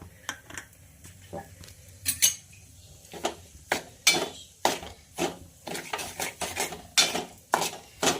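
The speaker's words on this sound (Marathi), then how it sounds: "यामध्ये आपल्याला असा गोल्डन रंग होईपर्यंत रवा भाजून घ्यायचा आहे तर मस्तपैकी रवा भाजून घेऊया" Semolina roasting in buffalo ghee in a pan, stirred with a metal spoon that scrapes and clinks against the pan in irregular bursts, close and fairly loud, with no talking.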